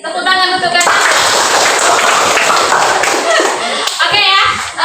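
Children in a classroom clap their hands together in quick, loud, close rhythmic claps. The clapping runs on steadily, with a voice and children's voices briefly at the start and end.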